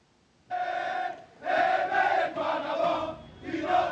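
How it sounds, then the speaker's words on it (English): Crowd of hundreds cheering and shouting in the streets of Libreville, Gabon, celebrating military officers; loud massed voices rise in bursts, swelling and falling with short lulls between. "Hundreds of people took to the streets in Gabon's capital, Libreville, to celebrate and cheer for the military officers"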